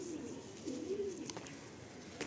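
Andhra pigeons cooing softly in a loft, a few low rolling coos rising and falling against steady background noise, with a faint click or two.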